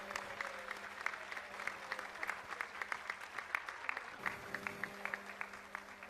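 An audience at the Blackpool Championship dog show claps in a sustained round of applause, many hands clattering together at moderate distance, with a brief dip before the clapping swells again, and no speech over it.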